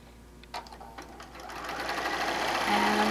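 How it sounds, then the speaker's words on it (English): A sewing machine stitches a quilt seam, starting with a few scattered clicks and then running in a steady, close, rising whir that grows louder toward the end. "we're going to sew that seam down"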